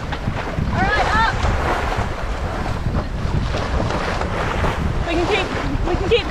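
Strong wind at sea on a sailboat crossing the North Atlantic toward Iceland roars loud and steady against the microphone, with wash from the waves underneath and brief faint voices or creaks.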